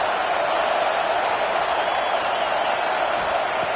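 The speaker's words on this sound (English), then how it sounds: "listen to this crowd noise. This stadium is vibrating." A packed football stadium crowd roars in a steady, dense wash of noise that holds loud and unbroken throughout, with no clear individual voices standing out.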